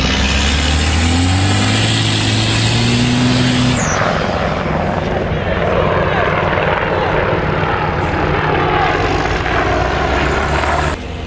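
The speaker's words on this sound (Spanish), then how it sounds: "Helicópteros de combate empiezan a sobrevolar la zona." Combat helicopters fly over a road in Ludina, Badghis, Afghanistan, where Spanish troops have halted. A loud, steady rotor and engine roar fills the whole stretch, with a sharp shift in pitch partway through as the aircraft passes overhead.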